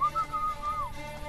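A short, wavering two-part whistle at a fixed pitch, likely a person imitating the call that summons the assassins in the Assassin's Creed Brotherhood video game, heard over faint background noise.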